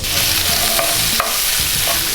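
Shrimp hitting hot, nearly smoking oil in a sauté pan, giving a loud, steady sizzle with a few sharper crackles and stirring clatters, close up and without talk.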